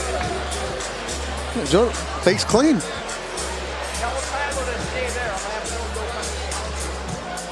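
Crowd noise at a boxing event at Commerce Casino, a Golden Boy fight night: steady babble and murmuring of a large audience in a hall, mostly under a commentator's voice, with a few brief shouts.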